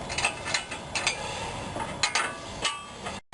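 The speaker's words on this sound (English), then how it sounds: "we're going to just tighten these back up." A ratchet tightens the front suspension bolts on a car during reassembly, making close, crisp rapid clicking in several separate bursts with short pauses between them.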